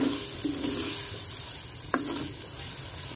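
Tomatoes sizzle steadily in a hot pan on a village cooking setup, with a spoon scraping and stirring through them and one sharp clink of utensil against metal partway through; no one speaks.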